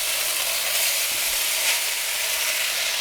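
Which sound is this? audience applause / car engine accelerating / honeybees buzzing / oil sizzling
oil sizzling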